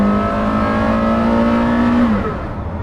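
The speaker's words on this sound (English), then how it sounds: "A greater sounding engine does not exist." A Porsche Carrera GT or Ferrari F40 supercar engine revs loud and close, holding a steady high-pitched drone before the revs drop and fade away near the end.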